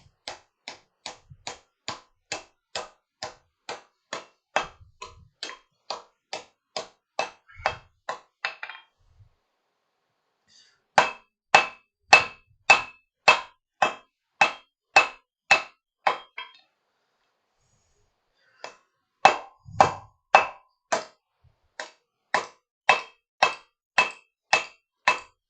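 Hot steel hammered on an anvil at a forge: long runs of sharp, evenly spaced ringing strikes in three bursts, separated by short pauses, close and loud.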